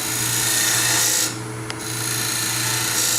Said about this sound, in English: I use a spindle gouge here to shape my dovetail, square up the corner